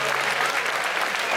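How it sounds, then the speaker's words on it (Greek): Loud, dense audience applause for an orchestra at an outdoor celebration, an even burst of clapping from a sizable crowd with no pause. "Θέλω ένα χειροκρότημα όμως για την ορχήστρα."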